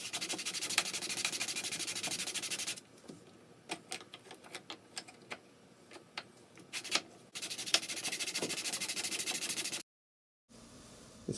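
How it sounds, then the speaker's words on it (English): A wooden hull of an HMS Thorn ship model is sanded by hand in long, steady rasping strokes, close and clear, with a stretch of light ticking taps between strokes before the rubbing resumes. "What we're doing is sanding the outside surface."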